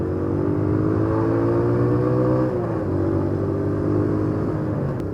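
Cars and motorcycles idle and creep in stop-and-go traffic near Gandaria City, a steady close engine rumble with a slight pitch dip partway through, no talking.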